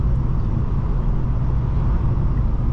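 A 2007 Honda Civic LX cruising at speed, giving a steady, loud low rumble of road and engine noise from inside the cabin, continuous and unbroken with no talking.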